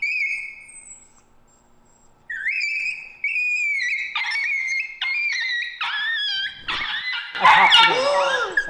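A dog whimpers in pain while being held for chiropractic treatment, high thin whines building into louder yelps and cries, up close, with people talking around it.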